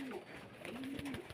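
A pigeon, kept as a homing or sporting bird, gives a soft close coo in two low rolling phrases over faint background noise.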